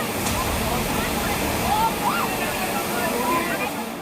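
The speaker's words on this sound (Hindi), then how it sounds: "जहां बाढ़ का पानी सड़क पर आ गया है" Floodwater in Damoh pours across a road in a steady rushing wash, with faint engine or horn tones drifting in under the continuous flow and a voice in the background.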